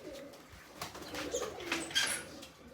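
Pigeons coo softly at a backyard pigeon house, a few low murmuring calls overlapping at close range, with faint light chirps and no speech.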